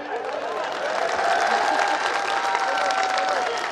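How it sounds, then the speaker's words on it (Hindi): A crowd at a poetry recital applauds steadily, dense clapping filling the space at moderate volume throughout, with a faint murmur of voices underneath. "ये तालियां कम है।"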